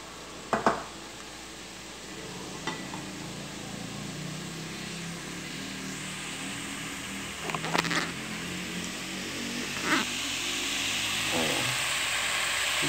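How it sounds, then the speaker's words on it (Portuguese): Food frying in a pan during home cooking, a steady low sizzle under intermittent talk, punctuated by a few sharp clinks and scrapes of utensils. "Deixar fritar"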